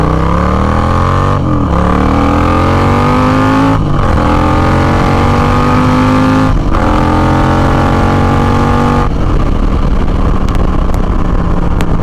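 A motorcycle fitted with a Fuel Moto Jackpot RTX Riot 2-into-1 shorty exhaust pulls hard, its loud engine rising in pitch through several gears with brief dips at each shift, then settling into rough rumbling.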